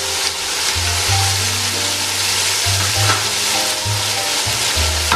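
Masala frying in oil with green chillies and salt going in for a matar pulao, a steady close sizzle with occasional stirring scrapes and a low hum throughout.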